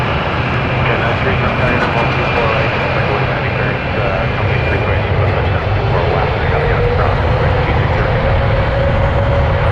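Turkish Airlines airliner engines spooling up for takeoff on runway 23 at Toronto Pearson: a loud, sustained jet roar with a rising whine, steady and powerful from start to finish, with radio voices faintly underneath.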